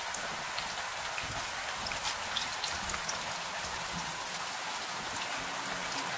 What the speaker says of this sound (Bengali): এই বৃষ্টি মনে হচ্ছে না আর থামবে। ধীরে ধীরে এর গতি আরো বেড়ে চলেছে।